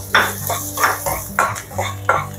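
Green chilies are stirred into onion and garlic frying in a pan, with about five rhythmic scraping strokes of a utensil against the metal over a soft sizzle, close and fairly loud.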